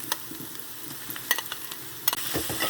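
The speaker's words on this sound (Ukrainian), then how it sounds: "Сюди я кидаю тепер м'ясо." Meat tossed into a pan of frying onions sizzles softly and steadily up close, with scattered clicks and scrapes of stirring and no speech.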